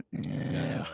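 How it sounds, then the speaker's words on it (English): A dog named Peanut, picked up on a dog camera, lets out a short low growl lasting under a second at close range. "Yo, it's a dog."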